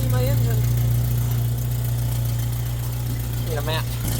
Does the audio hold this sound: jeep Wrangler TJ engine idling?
yes